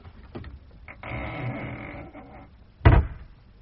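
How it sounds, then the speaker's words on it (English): A wooden cellar trap door is handled and closed in a radio drama: creaking and rattling movement builds, followed by one loud, close thud as the door drops shut, with no voices. "Close the trap door."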